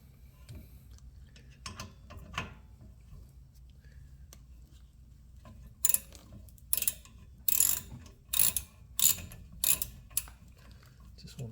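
A 7 mm socket or Allen wrench works a rear brake bolt on a 2012 Ford Focus, first with faint ticks, then with a run of loud, close ratcheting bursts in an uneven rhythm.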